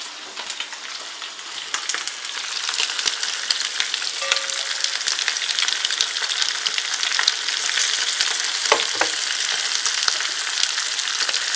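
Food sizzles and crackles in an uncovered frying pan during a dinner cooked on a terrace, a steady dense hiss with scattered pops, close and continuous with no talking.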